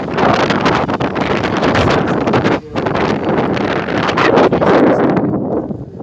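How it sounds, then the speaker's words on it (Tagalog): Strong wind in Dubai buffets the microphone in a continuous loud roar, gusting steadily with only a brief lull partway through. "Sobrang lakas ng hangin."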